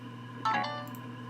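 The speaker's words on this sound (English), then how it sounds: "And that's my phone." A brief phone ringtone chirps once, short and fairly faint, over a quiet background hum.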